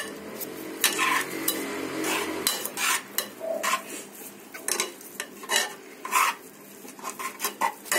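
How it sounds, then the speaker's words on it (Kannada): Carrot halwa with sugar being stirred in a pan, a close series of irregular metallic spoon scrapes and clatters against the vessel under a low background hum, no talking. "ಬಹಳ ಹೊತ್ತು ಕಲಸೋಣ."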